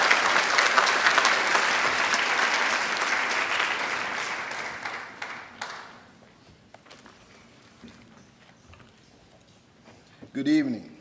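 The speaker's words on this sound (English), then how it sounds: "if we can join in another round of applause for the students of Southern National High School" An audience at a high school academic awards evening applauds the students, dense clapping that fades out midway, leaving scattered footsteps and room noise, then a brief voice near the end.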